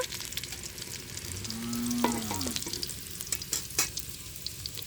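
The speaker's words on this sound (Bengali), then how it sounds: "আলুটা লাল লাল করে ভেজে নিলাম" Potatoes fry in a pan in a village kitchen, a steady sizzle with scraping stirs and a brief squeaky tone midway, close and fairly loud with no talking.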